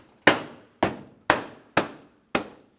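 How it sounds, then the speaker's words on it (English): Clips on a 2009-2019 Ford Flex front bumper cover snap into place as five sharp, close clicks, spaced about half a second apart, each cutting off quickly into silence. "Listen for a click."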